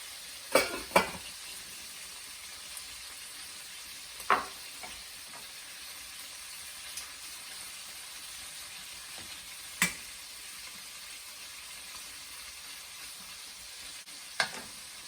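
Shrimp and clam sauce sizzles and fries steadily in a pan as parsley is stirred in for spicy linguine, a constant crackling bed with a few sharp utensil clicks and taps scattered through.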